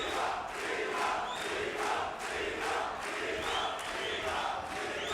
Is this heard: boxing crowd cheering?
yes